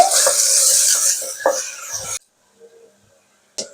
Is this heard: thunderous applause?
no